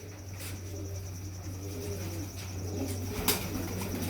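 Pigeons in a breeder's loft at a home give faint wing flutters and soft cooing over a steady low hum, quiet and close.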